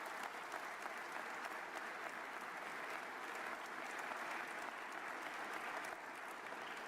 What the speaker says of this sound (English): please give those people that have worked a giant applause